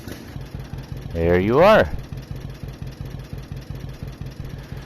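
A John Deere Model A tractor engine idles with a steady, low, regular thumping, rising briefly in a quick rev near the start; someone speaks a few words over it.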